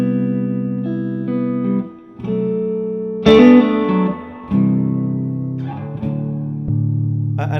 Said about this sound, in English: I can make the reverb on here go pretty mental